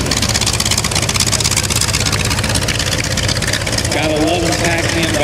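T-28 Trojan aircraft taxiing past at an air show, a loud, steady, rumbling piston engine throughout, with voices mixed in.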